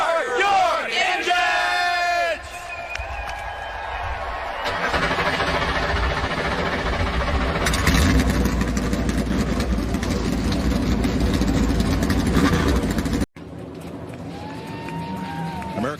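NASCAR race car engines fire up at the 2023 Daytona 500 and roar steadily while a crowd cheers and shouts loudly, the roar cutting off abruptly near the end.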